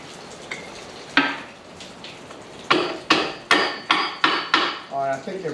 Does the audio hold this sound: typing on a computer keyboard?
no